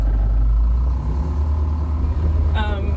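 A Ford Bronco's engine gives a deep, steady, close rumble, heaviest at the start and then settling into a low idle, with a short higher whine near the end.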